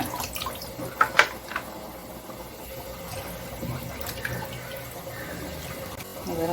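Tap water runs steadily in a sink while mutton is rinsed for a Sunday curry, a continuous splashing wash with a couple of sharper clatters early on.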